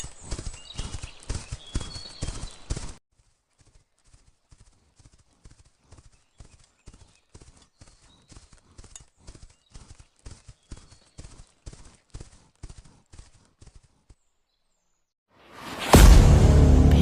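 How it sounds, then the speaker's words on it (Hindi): Hoofbeats of a goat running toward its hut, a steady rapid clip-clop of hooves, louder at first then fading to softer repeated beats, ending with a sudden loud whoosh. "उधर बकरी चिड़िया के पीछे पीछे तेजी से झोपड़ी की ओर भागती हुई चली आ रही थी"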